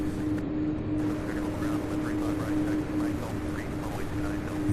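An aircraft taxis at Louisville International Airport near the UPS Worldport, a steady distant engine rumble and whine over constant outdoor background noise, with no voices.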